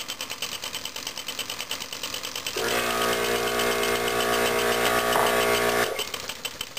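A small homemade engine runs with a fast mechanical rattle that suddenly grows louder and denser as it speeds up, holds that higher pace for a few seconds, then drops back to a quieter idle.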